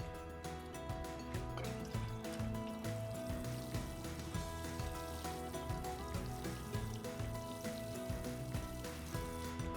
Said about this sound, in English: all we're going to do now is water them in